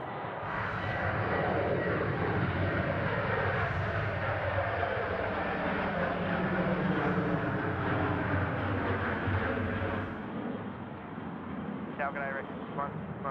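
Delta 41 Heavy jet landing on runway 34 right at Sydney Airport, a loud broad engine roar passing close in front and fading after about ten seconds, with people talking over it.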